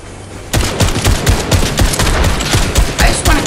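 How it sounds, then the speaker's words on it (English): A semi-auto hunting rifle in the Fortnite video game fires a rapid string of loud, punchy shots in close succession, dense and continuous after a short quiet lead-in. "It's actually kind of like a semi-auto hunting rifle."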